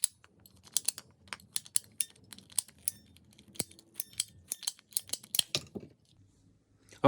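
PVC pipe pieces being cut for a marshmallow shooter, producing a series of sharp, fairly close snipping clicks in an irregular rhythm over about six seconds, then a brief pause before a louder thump at the end.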